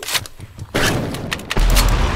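Loud, close gunfire from a weapon in the Call of Duty Zombies Minecraft game: a few sharp bursts, then a heavy booming blast with sustained rumble, no talk.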